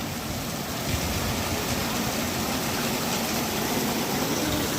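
Steady June rain pours over a village in Pakistan, a dense, even rushing wash of water that holds constant throughout without speech.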